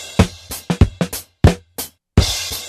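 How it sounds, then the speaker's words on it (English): Live-sounding drum beat loop played from a music-production plugin in FL Studio: sharp kick and snare hits with crisp cymbal accents in a syncopated pattern, clean and close, with no other sounds. "I wanted to use a beat that was a live beat. So it sounded like, it was a real drummer."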